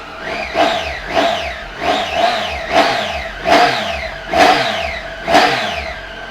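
A 2017 Triumph Tiger 800 XRX motorcycle with an 800cc three-cylinder engine is revved in about seven sharp blips over a steady idle. Each blip rises and falls again, close and loud, with no talk over it.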